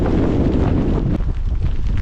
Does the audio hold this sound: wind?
yes